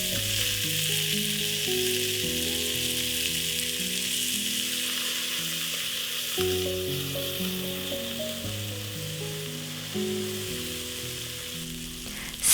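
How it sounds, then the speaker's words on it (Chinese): Beef chunks sear in a tablespoon of vegetable oil over high heat in a pressure cooker on its sauté setting, giving a steady loud sizzle and crackle under background music. "先用煎炒的模式预热，然后加入1大匙的植物油，用高温呢放下去，把牛肉块表面煎上色"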